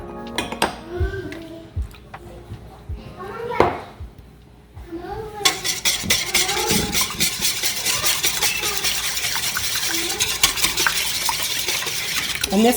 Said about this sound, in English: and whisk those together